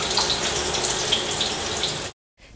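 A shower boosted by a power booster pump sprays in a steady, loud hiss of running water for about two seconds, then cuts off abruptly into silence.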